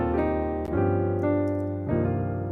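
Gospel chord progression moving from the four to the six to the two on a keyboard, played as three sustained rich voicings struck in turn, each ringing out full and close with no talking.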